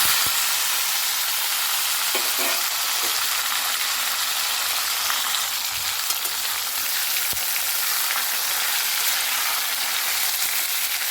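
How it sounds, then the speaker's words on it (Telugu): Chopped tomatoes, onions and green chillies fry in hot oil after a curry-leaf tempering, giving a steady, loud sizzle that holds for the whole stretch, with a few faint clinks near the start and midway. "ఇప్పుడు మనం కట్ చేసి పెట్టుకున్న టమోటాలు ఉల్లిపాయలు పచ్చిమిర్చి వేస్తున్నాం"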